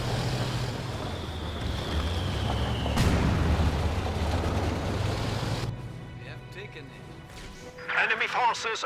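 Mortar fire from half-tracks in a strategy video game, with a dense rumble of booming explosions that peaks in a loud blast, then cuts to quieter game sounds as a voice talks over the barrage.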